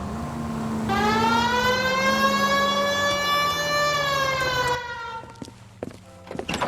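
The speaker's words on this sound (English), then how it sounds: "Hit the siren." A loud wailing police car siren in the video game L.A. Noire rises and holds in a long sweeping tone, then cuts off, followed by a few scattered clicks and knocks.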